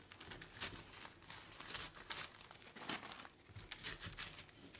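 Material is torn by hand rather than cut, with quiet crinkling and ripping in short uneven bursts, close and soft, with no voices.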